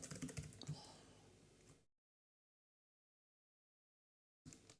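Quick clattering keystrokes on a computer keyboard run for a couple of seconds, then silence falls before a short final burst of typing, all faint and close.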